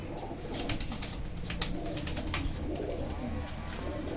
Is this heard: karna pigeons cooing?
yes